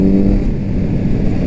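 A 2020 Kawasaki Z900 naked motorcycle pulls in 4th gear, its engine a loud, steady low drone with wind rush, heard close from the rider's position.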